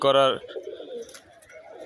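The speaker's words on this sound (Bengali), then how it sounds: "এই যে কবুতরগুলো উঠতেছে, দেখেন কবুতরগুলো উঠতেছে" Soft, low pigeon coos murmur on and off, opening with a brief louder tonal call and then settling into a gentle, continuous cooing.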